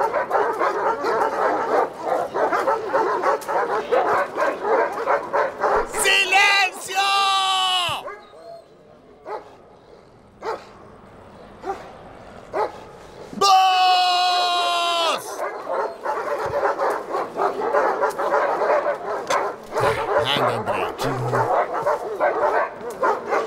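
Dogs bark repeatedly in a tense setting, with sharp yips and barks through most of the stretch, brief quieter gaps between bursts, and other sounds and voices mixed in around them.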